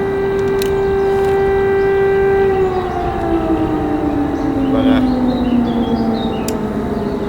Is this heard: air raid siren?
yes